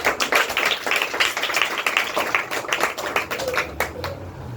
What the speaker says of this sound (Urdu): خدا کی ذات کے لیے زوردار تالیاں بجائیں گے